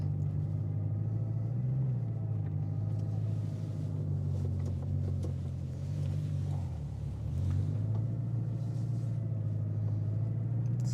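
Bugatti Chiron Sport 1500 hp hypercar engine heard from inside while driving, a steady deep low rumble with mild pitch rises and dips as throttle changes, continuous throughout.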